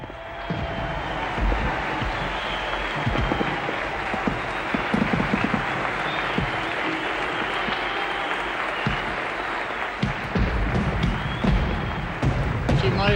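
A large outdoor opera concert crowd of thousands claps and cheers continuously, a dense, loud wash of applause with voices mixed in throughout.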